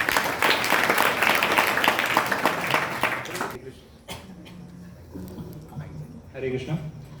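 Listeners at a devotional satsang gathering clap together for about three and a half seconds, a lively but slightly uneven burst, after which the clapping stops and scattered voices and shuffling sounds follow.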